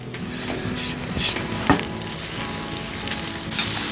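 Onions and carrots sizzle and fry steadily in a pan for a Ukrainian bigos, with a continuous close crackle, a few stirring clatters and no talk.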